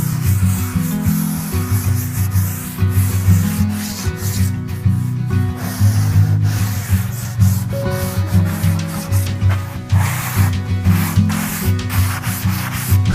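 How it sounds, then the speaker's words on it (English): A sander with 220-grit paper on a foam backer smooths a rough stone-spray coating on a countertop being prepared for epoxy, giving a loud, continuous, close-up scrubbing hiss with no break. "I'm gonna sand it with 220 grit on a foam backer, and I'm gonna get this nice and smooth to the touch."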